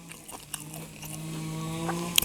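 Crispy pork is bitten and chewed close up, with soft crunching, a tonal hum running underneath and a sharper crackling crunch near the end.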